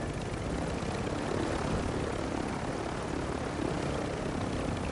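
Video game helicopter in flight, a constant dense rotor and engine roar, steady and loud with no pauses and no talk.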